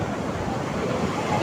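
Ocean surf rolls onto the beach at Puri in a dense, continuous wash of noise with wind buffeting the microphone and faint crowd babble beneath.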